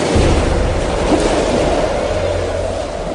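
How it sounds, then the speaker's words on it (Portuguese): A strong wind blows over rising waves on open water in a steady, loud, rushing roar that continues without a break. "De repente, um vento forte começou a soprar e a levantar as ondas."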